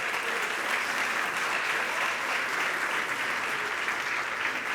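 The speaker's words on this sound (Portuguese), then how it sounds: "Vamos aplaudir ao Senhor." A church congregation claps continuously in a dense, even wash of applause, moderately loud and unbroken, with no talk over it.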